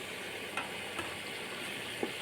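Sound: chicken sizzling while stir-fried with spices

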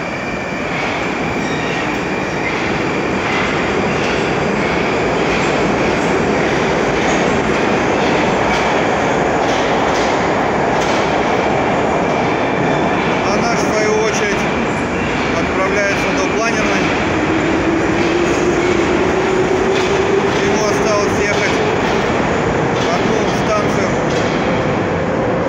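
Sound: metro train departing from station

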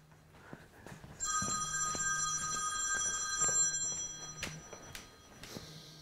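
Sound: telephone ringing

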